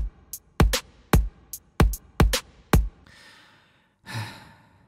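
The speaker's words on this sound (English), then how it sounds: "I immediately start to compose the drums, and it sounds like this." Drum track composed for a heavy metal song: sharp kick and snare hits in a quick, uneven pattern with cymbal splashes, then a wash of crash near the end.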